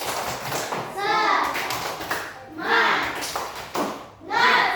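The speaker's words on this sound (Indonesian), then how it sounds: "coba tepuk semangat" Schoolchildren at an elementary school perform a tepuk semangat clapping chant, their voices chanting together in rising bursts, mixed with rhythmic claps and taps.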